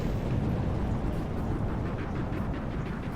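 Missiles strike the Enterprise in the naval combat game From the Depths, producing a continuous roaring, rumbling blast that stays dense and steady for a few seconds, with no voices over it.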